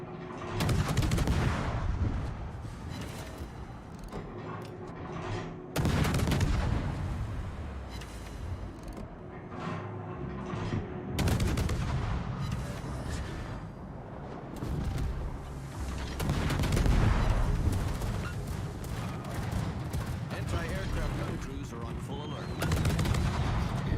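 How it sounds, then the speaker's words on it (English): Warship guns firing in the World of Warships video game, heavy booming salvos every few seconds over a continuous low rumble of battle, loud and full. "I may as well just open fire."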